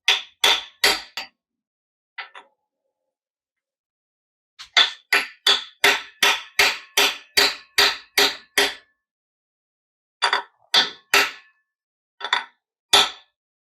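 Sharp metallic hammer blows drive new core plugs into a Holden 304 V8 engine block: a few quick strikes, a pause, then a long regular run of about a dozen loud close clangs, followed by scattered final taps.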